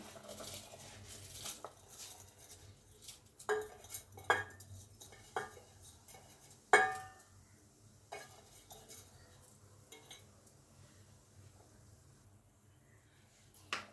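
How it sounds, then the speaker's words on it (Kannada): Washed rice tipped into a pot of boiling water for chicken biryani, with scattered metallic clinks and scrapes of a spoon against the pot over a low steady bubbling, no voices. "ಸೊ ಇವಾಗ ನಾನು ತೊಳೆದಿಟ್ಟಿದ್ನಲ್ಲ ಅಕ್ಕಿನ ಹಾಕ್ತಾಯಿದ್ದೀನಿ"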